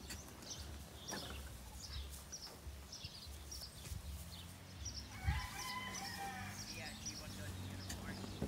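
Turkeys gobbling and clucking around a farmyard, several birds calling at once, with people talking and shouting nearby.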